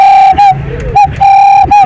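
A man imitates pigeon cooing with loud, close, repeated sustained calls broken by short pauses, among football fans at the Namanga border.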